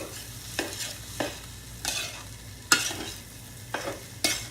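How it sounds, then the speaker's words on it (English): Shrimp fried rice being stir-fried in a pan, with a steady low sizzle broken by about eight sharp scraping strokes of a utensil across the pan at irregular intervals, close and fairly loud. "So now it's stir fry time."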